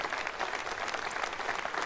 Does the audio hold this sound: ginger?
no